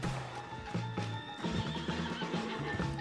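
A horse in Red Dead Redemption 2 whinnies and snorts up close, its neighs standing out loudly alongside clip-clopping hooves and game sounds.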